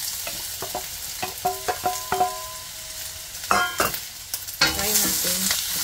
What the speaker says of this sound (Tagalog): Fry natin hanggang sa maluto ang ating onion.